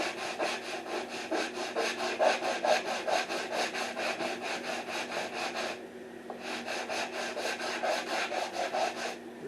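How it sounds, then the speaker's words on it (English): A sanding block with sandpaper rubs back and forth across a wooden acoustic guitar joint, a close, rhythmic rasp of rapid, even strokes that stops briefly before resuming. "we just need to use a sanding block and a piece of sandpaper and run across the joint"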